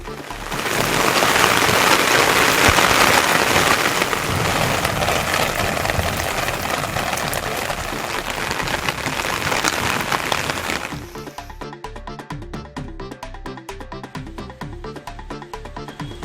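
Sudden summer rain falling over a residential colony, a dense, steady hiss of downpour that is loud for most of the stretch, then drops to a lighter patter of scattered drops.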